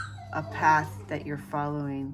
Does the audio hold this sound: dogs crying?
yes